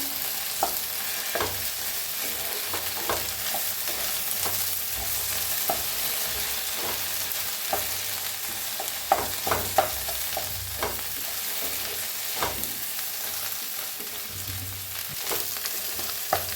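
Okra with masala being stirred in a hot pan, with a steady sizzle under repeated scraping strokes of a spoon at an even, unhurried pace, heard close and alone.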